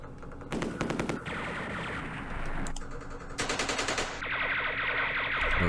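Machine-gun fire in the war game Campaign Series Middle East, several rattling bursts of rapid shots in quick succession, near and fairly loud over a steady background hum, with no one talking.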